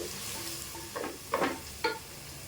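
Ginger garlic paste fries in a pan for prawn pulao, a close sizzle broken by a few brief scraping strokes of a spoon, with no talking.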